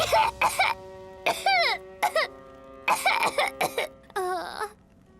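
Several bursts of coughing from an animated cartoon character, spread across about five seconds with short gaps, fairly close and clear, with a voiced, strained, almost vocal quality to some bursts and no talk.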